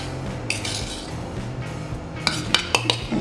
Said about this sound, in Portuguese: vou colocar mais ou menos o equivalente a uma colher de sopa